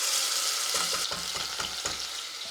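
Loud, close sizzling and crackling of Ayam Kapitan spice paste frying in hot oil, with a few scraping stirs breaking through the steady hiss.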